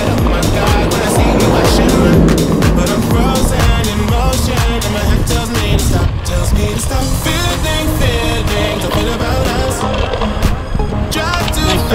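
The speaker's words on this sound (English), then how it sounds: "we'll let the car go by" A car passes on a road beside a cyclocross workout, a loud, steady broadband roar filling the whole stretch with rattling and clatter layered on top.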